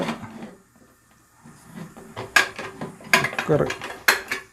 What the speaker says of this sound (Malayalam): കുക്കർ മൂടി വെച്ചിട്ട്